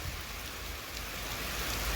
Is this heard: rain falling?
yes